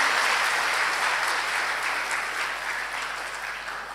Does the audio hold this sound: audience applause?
yes